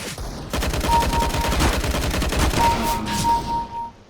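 Rapid bursts of automatic gunfire from a CS:GO round (Broken Fang operation), loud and close, with dense rattling shots running almost throughout and brief tonal game cues in between.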